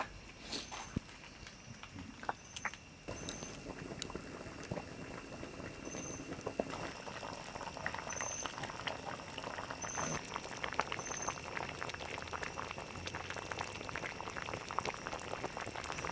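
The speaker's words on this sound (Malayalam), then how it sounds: "ഇനി നമുക്ക് നല്ലപോലെ കിടന്ന് മീൻ തിളച്ച് നല്ലപോലെ വേകണം." Kerala-style fish head curry simmers in a pot, a soft continuous bubbling with light patter and occasional small clicks and knocks, fairly quiet and close, without talk.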